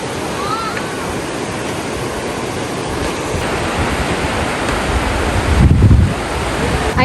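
Rain sweeps in beside a rural river, a dense, steady rushing hiss that fills the whole clip and swells briefly near the end, close and loud with no talking.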